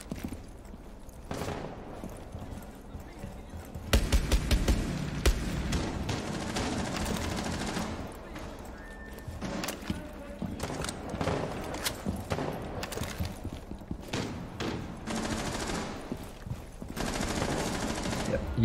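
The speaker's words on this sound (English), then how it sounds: "They're shooting up the ground." Dense automatic and single-shot gunfire in Rainbow Six Siege, with bursts rattling through the match as players shoot into the ground near a breakable room window, the firing loud and continuous across the whole stretch.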